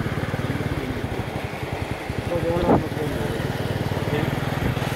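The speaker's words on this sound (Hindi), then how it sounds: "आराम से मोटरसाइकिल चला ले" A motorcycle engine runs with a steady, rapid low putter and rises slightly in the middle, close by, with faint voices in the background.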